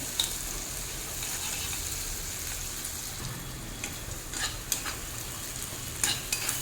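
Hand-pounded ginger-garlic paste frying in a pan, a dense continuous sizzle with busy stirring and scraping throughout, close and fairly loud, with a few brighter clicks of the utensil.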